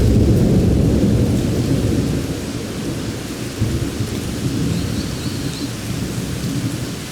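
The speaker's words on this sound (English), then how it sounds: "in the evening there's always storms, thunder and rain" A thunderstorm in the Brazilian Atlantic rainforest rolls with loud, deep thunder over heavy, steady rain, the rumble easing off after the first couple of seconds.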